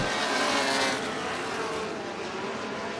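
A USAC Midwest Thunder SpeeD2 midget race pack roars around a circle track, the engine noise a dense, loud wash that fades slightly as the cars move on.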